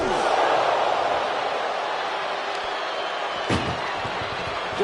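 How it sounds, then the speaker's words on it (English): A heavy slam rings out as wrestlers in WWE 2K25 force an ambulance's rear door shut, one sharp impact landing amid a steady roar of arena crowd noise. "Doing their best just to shut that first door."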